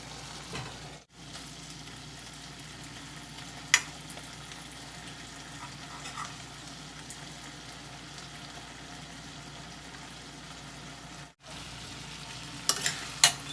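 Green bell pepper curry cooking in a pan without added water, a soft steady sizzle and bubbling close by, with a few faint clinks of a utensil and no talk.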